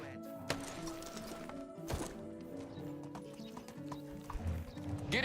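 Horse galloping in the medieval village game Medieval Dynasty, rhythmic clip-clop hoofbeats with a whinny, fairly quiet against faint background sounds.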